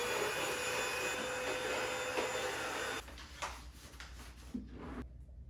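A household vacuum cleaner drones loudly and steadily during a whole-house cleaning session, then switches off partway through, leaving quieter bumps and handling noises before near silence.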